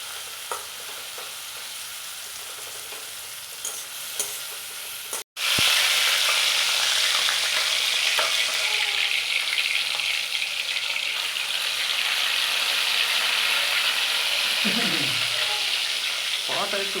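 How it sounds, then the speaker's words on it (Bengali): Onions drop into hot oil in a pan for Bengali fish curry, and a loud, dense sizzle bursts in partway through and then holds steady and close, with faint stirring and brief voice sounds toward the end. "এবার পরিমাণ মতো পেঁয়াজ, যে যেমন পেঁয়াজ খান একটু বেশিও দিতে পারেন, আবার কমও দিতে পারেন। পেঁয়াজ চলে গেল।"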